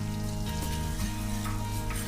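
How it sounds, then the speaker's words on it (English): Minced garlic sizzles in a pan of olive oil and butter, a steady close crackling fry heard alone for a couple of seconds. "I'll mix some olive oil with butter and add all the minced garlic into it."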